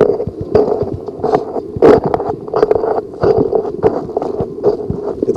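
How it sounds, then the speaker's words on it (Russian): An elderly man walking past, picked up through pipe leak-detection headphones beside a heating main, comes through as a steady series of muffled, rhythmic footstep thuds over a continuous low rumble. "вот так в наушниках звучит проходящий мимо дед."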